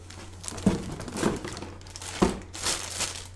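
A plastic bag crinkles close by, with a few soft rustling bursts and crumples in a quiet room.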